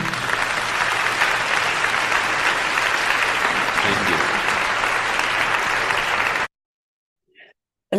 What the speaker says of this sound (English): it definitely deserves that applause